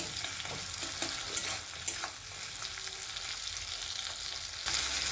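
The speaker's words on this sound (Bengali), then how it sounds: "এই চিংড়ি ভাজাও হবে আর" Prawns and onion sizzle steadily in hot oil, loud and close. A few sharp knocks and scrapes from stirring sit on top of the frying.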